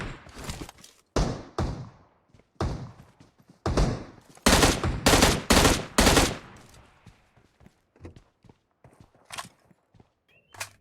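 M16 rifle gunfire in the PUBG Mobile battle royale game: scattered single shots early on, then a loud cluster of rapid bursts in the middle, tapering into fainter, sparse shots toward the end.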